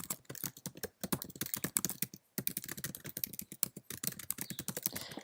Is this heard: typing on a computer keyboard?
yes